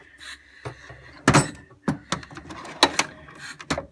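Toolbox drawer in a home tool collection of wrenches being handled, giving a series of sharp metallic clacks and slides, several close knocks spaced unevenly over a faint background.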